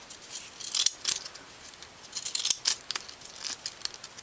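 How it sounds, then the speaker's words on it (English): Wavy or scallop-edged craft scissors cut down the center of a paper strip for a banner, giving repeated crisp snipping and crinkling bursts, close and fairly quiet, with no talk. "take either your wavy or your scallop scissors and cut down the center"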